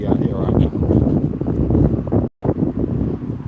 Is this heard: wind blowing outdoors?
yes